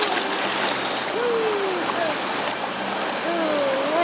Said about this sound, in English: Christy is paddling.